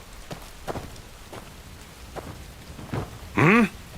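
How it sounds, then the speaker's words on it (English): Steady rain hiss falls in the video game Where Winds Meet, broken by a few louder splashing bursts, and a short voice cry cuts in near the end. "Damn this rain!"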